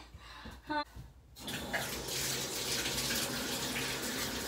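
Water runs steadily from a tap while a child is washed, a continuous close splashing wash after a few brief bumps and a short pause at the start.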